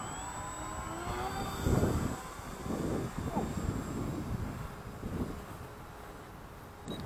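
A Dynam PBY Catalina RC model plane with a 1470mm wingspan climbs away after a hand launch over grass, its motor a steady high whine that swells and fades while gusty wind rumbles underneath.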